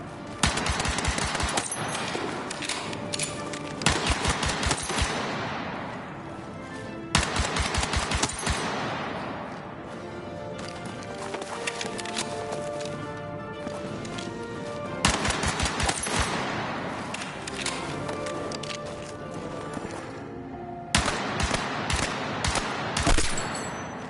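Rapid pistol and automatic gunfire rings out at a firing range in the Battlefield 6 beta, loud bursts of sharp shots in quick clusters separated by brief pauses, with no voices.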